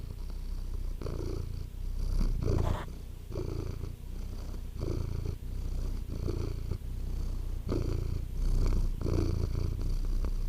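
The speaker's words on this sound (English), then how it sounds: "Purr into the microphone." A cat purrs right into a close microphone, steady rumbling purrs in a regular rhythm of breaths in and out, loud and continuous with no talking over it.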